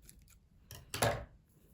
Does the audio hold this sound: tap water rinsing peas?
no